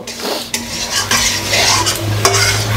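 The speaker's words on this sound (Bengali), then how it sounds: "মশলাটা এবার একটু জল দিয়ে ভালো করে সাঁতুলে নেব।" A spoon stirs and scrapes a spice paste with a splash of water in a metal pan for fish-head kalia. There are repeated clinks and scrapes over a soft, steady sizzle, close and fairly loud.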